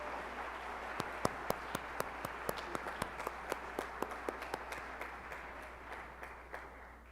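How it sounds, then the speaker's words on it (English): Scattered applause from an audience at a staff recognition and awards evening, with sparse, distinct claps over a soft room murmur, steady for several seconds before thinning out toward the end. "Let's give this group a round of applause as we pause for a photo."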